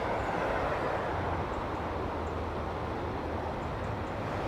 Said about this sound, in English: You probably can hear the cars in the background.